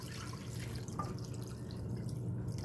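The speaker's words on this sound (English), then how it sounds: "All you're gonna do is put water over the top of it, just enough to cover it." Tap water runs steadily into a pot over turmeric chicken bone broth ingredients, a continuous close splashing and trickling pour with no one talking.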